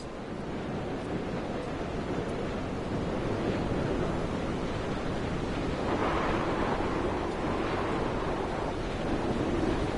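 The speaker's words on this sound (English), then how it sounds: "Getting a bit windy." Steady wind buffets a desolate island coastline in the video game Dear Esther, a continuous broadband roar with surf-like swells, loudest around the middle and end and with no voices.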